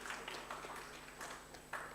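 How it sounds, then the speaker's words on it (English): Audience applause at the release of a national demographic and health survey report, faint scattered clapping from a distant crowd in a large hall over a low steady hum. "Really deserves an applause."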